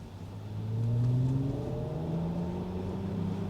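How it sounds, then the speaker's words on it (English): A synthetic engine tone from a Mercedes EQS electric car rises as it accelerates, a smooth humming whir climbing in pitch, steady and moderately quiet. "it's one of the best fake engine noises I've ever heard in my life."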